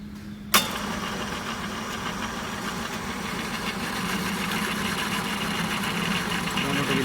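A manufacturing lab machine starts up again with a sharp click, then settles into a steady, fairly loud running hum and mechanical whir that holds for several seconds without talk.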